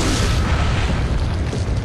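A 12-gauge shotgun in Resident Evil 4 fires with one loud, booming blast that fills the short moment.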